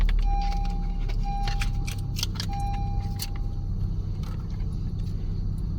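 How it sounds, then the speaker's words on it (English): A 2014-2020 Honda CR-V parked while its key turns in the ignition, with metallic key clicks and jingles over a low steady idle rumble and a few faint electronic chime tones, no voices. "insert your working key into the ignition and start the car"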